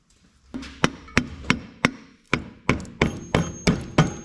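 A rubber mallet taps a part into a Farmall 300 engine during a rebuild, giving about a dozen sharp, close knocks in an uneven but steady rhythm.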